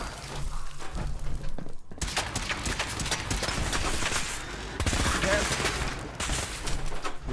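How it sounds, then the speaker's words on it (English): Gunfire in Fallout 4: steady rapid shots and crackling bursts run almost continuously through a busy firefight, loud and close, with a brief pause before the shooting resumes. "Taking fire!"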